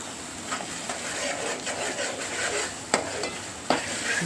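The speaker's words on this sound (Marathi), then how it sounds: "चांगला मसाला तळून घ्यायचा." Ground wet masala paste frying in a pan for Maharashtrian misal gives a steady, soft sizzle, with a few sharp scrapes and clacks from stirring near the end.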